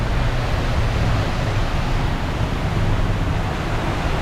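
Steady, loud broadband roar of a 37-knot gale and churning Pacific Ocean seas heard from a sailing yacht, constant and unbroken throughout with no speech.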